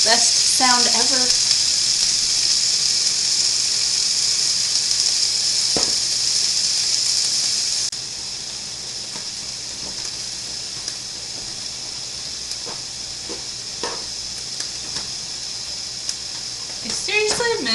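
Steak sizzling while frying in a pan during meal prep, a steady bright hiss that runs throughout and drops slightly halfway, with occasional clinks and stirring sounds over it.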